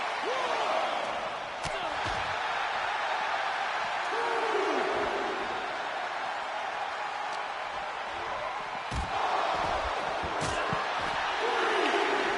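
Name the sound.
crowd cheering in WWE SmackDown video game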